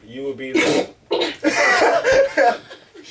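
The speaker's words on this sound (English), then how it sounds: "Oh, that was a sneeze." A single sharp sneeze bursts out in the middle of a lively conversation, loud and close, with people talking before and after it.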